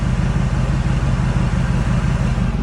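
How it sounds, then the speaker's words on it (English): A 1998 Ford Expedition idles with its exhaust rumbling low and steady up close, a continuous deep pulsing drone with no voices over it. "And now you can actually hear the exhaust."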